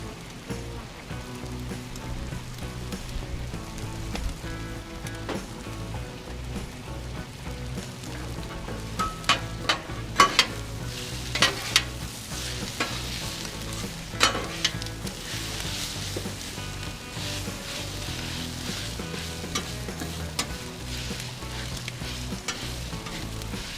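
Potatoes, onions and peppers fry on a flat-top Blackstone griddle, giving a steady, dense sizzle throughout with occasional sharper crackles and spatula scrapes and taps, close and unbroken by speech.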